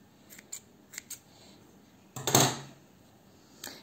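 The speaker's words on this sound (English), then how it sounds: "So pull through and snip off your end." Scissors snip off the end of a crochet yarn tail: several small, soft clicks, then one louder, crisp snip in the middle, close up in a quiet room.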